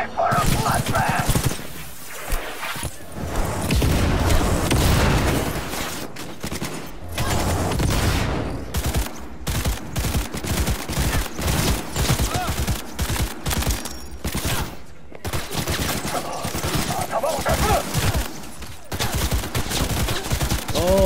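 Sustained gunfire in the video game Cyberpunk 2077, a dense run of rapid shots and volleys with short pauses, loud and close, with game sounds mixed in throughout.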